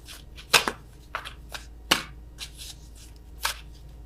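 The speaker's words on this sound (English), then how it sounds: "I am awful at attempting to shuffle these" A tarot deck being shuffled clumsily, a scattering of sharp card slaps and soft riffles spread irregularly across a few seconds, close and fairly quiet, with no voices.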